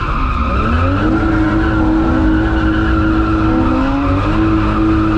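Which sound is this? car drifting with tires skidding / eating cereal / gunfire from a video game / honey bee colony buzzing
car drifting with tires skidding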